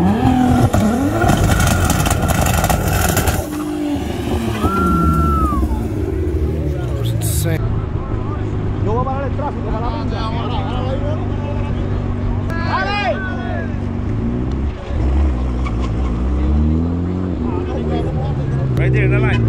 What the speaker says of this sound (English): GTR and Tesla from a dig.